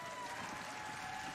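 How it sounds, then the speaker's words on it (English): Audience applause at a Games Done Quick speedrun marathon after a Sonic Adventure run, a steady dense wash of clapping with a faint tonal hum running through it, fairly quiet throughout. "Everyone, within the sound of my voice, give them a big round of applause"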